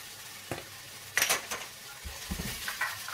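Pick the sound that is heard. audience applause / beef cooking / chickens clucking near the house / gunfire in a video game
beef cooking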